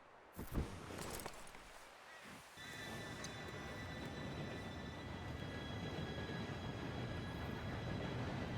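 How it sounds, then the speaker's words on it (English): A video game train rumbles in, starting with a few clanks and bumps before a loud, steady rolling roar with a high metallic whine builds and holds to the end. "Train should be here any minute now."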